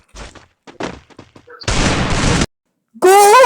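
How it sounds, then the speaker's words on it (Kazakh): Gunfire in the mobile shooting game Free Fire: a few short clicks and thuds, then a dense, loud burst of continuous firing for nearly a second, followed by a pause and a bright, warbling electronic tone. "Ол қасында атысып атқан деймін."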